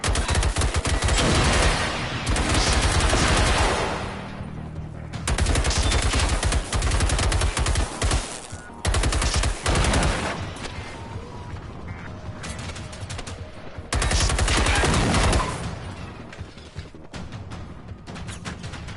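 Bursts of rapid gunfire ring out in the Generation Zero video game at a harbour, loud clattering volleys broken by short pauses and quieter stretches of mechanical clicks, with no talking.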